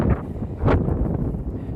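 Gusty wind buffeting the microphone beside a lake in a park, a low rumbling roar with a stronger blast near the start and steady turbulence throughout.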